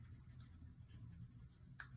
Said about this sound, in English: you're just going to rub the side of your pencil back and forth